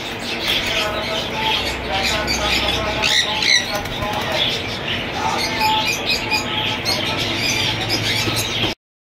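Parakeets and other caged birds chirp and squawk in a dense, continuous chorus at a Sunday bird market in Bahawalpur, with someone talking over the steady crowd of calls.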